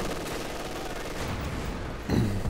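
A Panzerfaust strike on a Universal Carrier in the Company of Heroes 2 video game, a low blast erupting near the end after steady rattling battle noise and distant gunfire.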